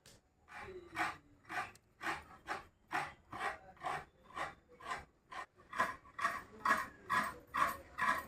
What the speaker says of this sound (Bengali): আমি নারকেলটা কোড়াই নিচ্ছি